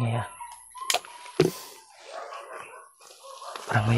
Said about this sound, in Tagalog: Parang may aso tol.